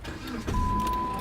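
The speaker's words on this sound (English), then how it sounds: "So we got in the car, put the key in the ignition," A car engine starts after a key is turned in the ignition, then settles into a steady, close, low rumble with a faint whine over it; no one speaks.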